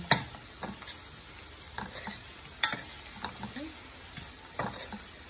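Spice paste ingredients dry-roasting in a pan with faint sizzling and intermittent scraping stirs, quiet and close, with soft ticks throughout.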